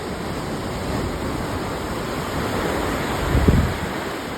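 Ocean waves wash against jagged rocks at the foot of a cliff with no beach, heard from above as a steady broad roar with a slightly heavier surge near the end, no voices.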